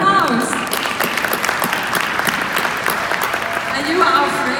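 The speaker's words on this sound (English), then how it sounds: "Give her a round of applause." An audience at a conference talk breaks into applause, a sustained patter of many hands clapping at close range, with a voice speaking briefly near the end.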